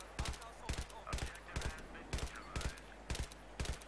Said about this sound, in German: Ich sehe, du schießt schon auf was.